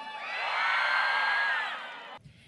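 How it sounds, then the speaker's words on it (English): Crowd at an outdoor spring fest stage show cheering and whooping for a performer named Crystal, a sustained loud swell of voices lasting about two seconds before cutting off abruptly. "A loud cheer for Crystal, please."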